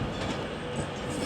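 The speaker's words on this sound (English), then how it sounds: "Was the 10:07 from London Euston, arriving late." Steady, loud rumble of a train running into Manchester Piccadilly railway station, a late-running service from London Euston, continuous and close with no voices.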